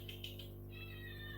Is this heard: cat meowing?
yes